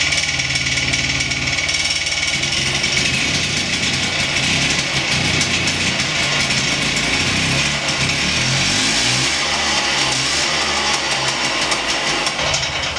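A Piaggio Ape motor-tricycle engine starts and idles loudly up close, chugging and rattling steadily, its pitch wavering slightly throughout, with no speech.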